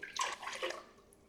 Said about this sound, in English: I'm going to do the same thing, putting a cup of water.